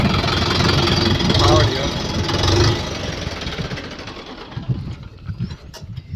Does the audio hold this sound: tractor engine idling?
yes